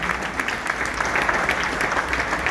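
Loud, steady applause from an audience at a success-story testimony event, dense clapping sustained throughout with no voices on top.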